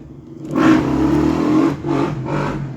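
A motorbike revving outside, a loud engine whine that swells, drops and rises again in a couple of bursts, heard from indoors without talk.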